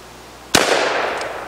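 A homemade candy-filled shotgun shell is fired at pumpkins, one loud, sharp blast followed by a long decaying outdoor echo.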